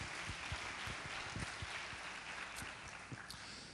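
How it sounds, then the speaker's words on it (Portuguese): A church congregation applauds, a dense, steady patter of many hands clapping together at moderate volume with no talking. "Você pode aplaudir a palavra do Senhor Jesus."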